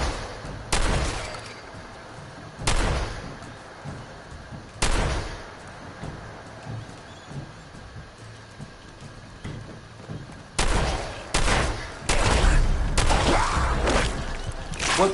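Combat shotgun fire in a video game: about seven loud single blasts, spaced irregularly with pauses between them and a quicker cluster near the end, over a low background rumble.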